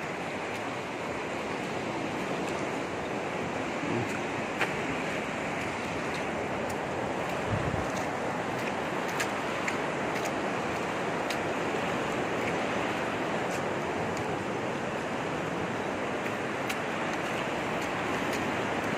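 Sea waves wash continuously onto a shore near a seaside cave, making a steady broadband rush with wind noise and no talk.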